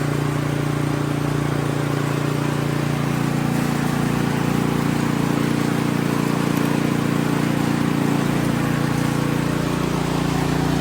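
An Ariens Deluxe 28 snowblower engine idling: a loud, steady, close mechanical drone with an even hum that holds unchanged throughout.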